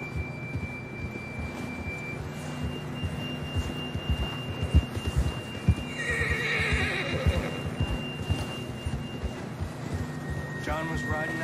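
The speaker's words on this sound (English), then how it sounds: "John was riding that horse when we left Blackwater." A horse in the Western video game Red Dead Redemption 2 whinnies loudly mid-clip over steady clip-clop hoofbeats and ambient game sounds, with a thin tonal chirp running through part of it.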